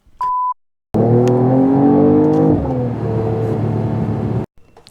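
A Mercedes E53 AMG hybrid engine revs hard and its exhaust roars loudly for several seconds, pitch climbing then dropping, after a brief beep at the start.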